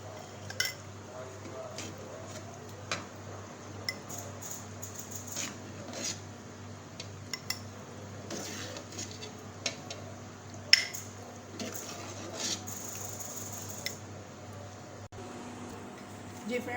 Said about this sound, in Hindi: अब मैं आपको इसमें डिश आउट करके बताती हूँ